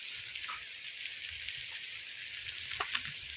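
Chopped tomato fries with onion in a pan, giving a soft, steady hiss at low volume with a few faint crackles and light stirring taps near the end.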